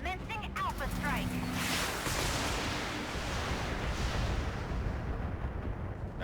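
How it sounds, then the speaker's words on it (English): A mech's full alpha strike in the Battletech video game unleashes a rolling barrage of heavy weapons fire, loud and continuous, with a brief synthetic voice line heard at the start. "Commencing Alpha Strike."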